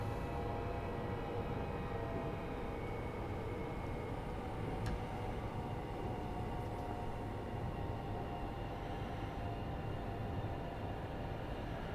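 A train in Train Sim World 5 on the West Coast Main Line South rolls steadily with a continuous low rumble and faint wheel and rail noise, moderately quiet throughout.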